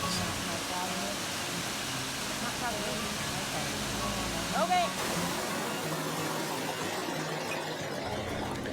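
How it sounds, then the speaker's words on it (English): Bridal Veil Falls in Spearfish Canyon, trickling low after little rainfall, gives a steady broadband wash of falling water, continuous and fairly close, with a brief higher sound midway. "This is Bridal Veil Falls."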